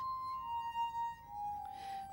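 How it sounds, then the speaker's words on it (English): Drinking glasses played as glass music give a soft sustained pure ringing tone that holds steady and shifts slightly in pitch, quiet and alone. "Playing music on drinking glasses may have been something your granddad did after dinner"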